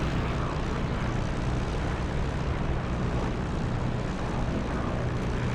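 A propeller fighter engine idles and rumbles while taxiing in a World War II combat flight simulator, a steady loud broadband drone with low throbbing texture, unbroken and close, no talking.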